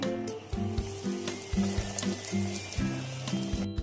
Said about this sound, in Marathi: याच्यात आपण ह्या टिक्की तळून घेऊ।